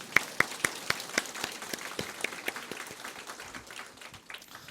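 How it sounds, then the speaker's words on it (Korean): A church congregation claps together during a Sunday sermon, a series of sharp, rhythmic claps, fairly loud at first and gradually thinning and softening as the applause dies down. "이제 여기서 박수 쳐야 되는 겁니다"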